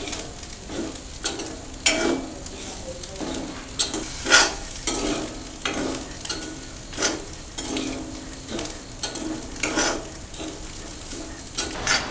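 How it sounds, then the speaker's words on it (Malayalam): Prawns and grated coconut fry in a pan for a Kerala-style dry fry, with a steady sizzle broken by repeated scraping strokes of a spoon stirring the mixture at close range. "എന്നിട്ട് നന്നായി വറുത്തെടുക്കുക. തേങ്ങ നന്നായി മൊരിയുന്നത് വരെ"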